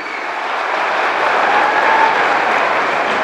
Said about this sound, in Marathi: एकदा जोरदार टाळ्या होत्या संत भगवान बाबा देवी संस्थानासाठी.